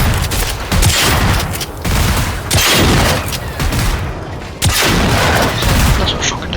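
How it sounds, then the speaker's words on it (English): Shotgun blasts and heavy combat noise in the game Generation Zero, dense booming bursts that come in rapid repeated waves, loud and close, with gunfire rumbling throughout. "Oh, this is what the shotgun does to these guys."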